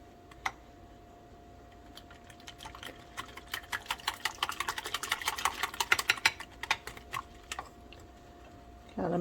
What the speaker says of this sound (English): I'm going to add a large egg to that. Whisk that together briefly.